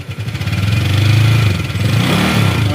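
A Honda Click 150i scooter engine runs close by and revs up, giving a loud, pulsing mechanical drone that rises and falls in pitch over a few seconds.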